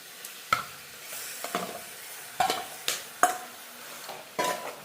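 Onions and tomatoes sautéing in a home-cooking pan, with a steady soft sizzle broken by several sharp scraping stirs and clinks of a utensil against the pan, up close and with no one talking.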